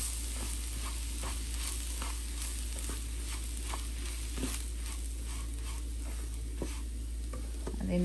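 Fine semolina (rava), 1.5 cups, is stirred in a hot pan over a medium flame, giving a soft steady sizzle with repeated scraping strokes of the spoon, close and fairly quiet.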